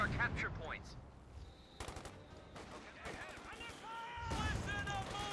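Rifle and bazooka fire in Company of Heroes 2, a fast crackle of gunfire and bursts of automatic fire amid battlefield noise, with voices talking over the combat throughout.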